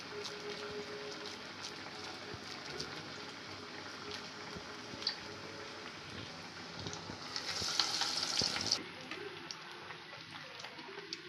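Toor dal and drumstick leaf vadas frying in hot oil and being turned over, a steady low sizzle with occasional light clicks, swelling into a brighter, louder hiss near the end before dropping away.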